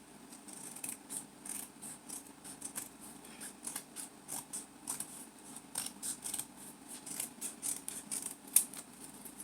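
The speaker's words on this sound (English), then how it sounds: "I think I can go ahead and cut this one down the middle." Scissors cutting a piece of material down the middle for a recycled vase shelf art project, a steady series of close, crisp snips in an uneven rhythm with no talking.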